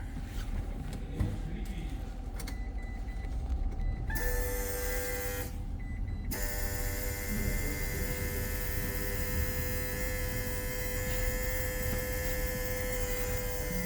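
An electric pump in a Mitsubishi i-MiEV electric car with no regeneration or traction starts as a steady tonal hum and whine. It cuts out briefly, then runs continuously alongside background murmur and faint voices.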